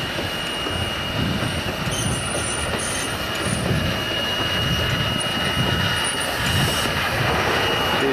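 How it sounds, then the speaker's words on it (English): A steam train on the Pichi Richi railway rumbles past steadily, wheels grinding and squealing on the rails over a continuous heavy roar. "You like the steam trains, Rex?"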